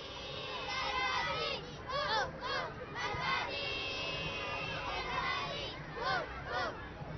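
Members of a children's team cheering at an outdoor game: a crowd of young voices shouting and chanting together in repeated bursts, steady and moderately loud throughout.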